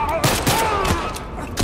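Rapid gunfire bursts in The Last of Us Part 1, several loud close shots cracking in quick succession over game ambience, with faint speech mixed in.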